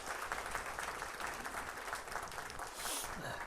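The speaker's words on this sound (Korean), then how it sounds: "박수로 맞으시기 바랍니다" A church congregation applauds to welcome a missionary back from Cambodia, a steady, moderately distant patter of many hands clapping throughout, with no voices over it.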